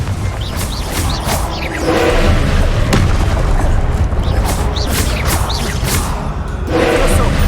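Confringo blasting spell explosions in Hogwarts Legacy, with repeated loud booms and whooshes over a dense, continuous battle din of game effects, close and full.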